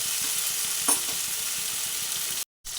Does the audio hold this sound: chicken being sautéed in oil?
yes